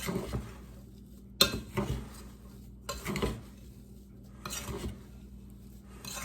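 Strawberry rhubarb pie filling with tapioca is mixed in a bowl, giving a few separate bursts of close, wet stirring and scraping with soft utensil clinks, each followed by brief quiet.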